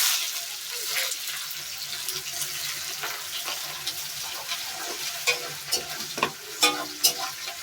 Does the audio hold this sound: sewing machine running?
no